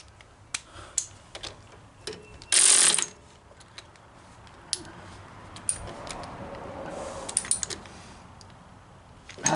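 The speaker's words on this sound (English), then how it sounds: "Tighten it up. With the right socket, of course." Socket ratchet tightening a nut on a Cub Cadet mower during a starter and throttle cable replacement, giving scattered soft clicks with a louder harsh burst partway through, fairly close in a quiet setting.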